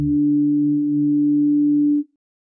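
An isolated second-octave harmonic of an electric guitar note rings as a pure, steady sine-like tone, holding evenly for about two seconds before cutting off.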